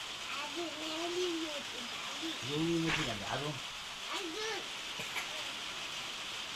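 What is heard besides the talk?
rain falling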